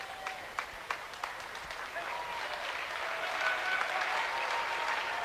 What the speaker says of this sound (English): Gets a nice round of applause as he comes onto the floor for Kenyon-Wanamingo.